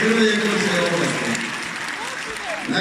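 A large crowd applauds steadily through a Kursk circus award ceremony honouring regional heroes, the clapping continuing beneath a loud announcer's voice.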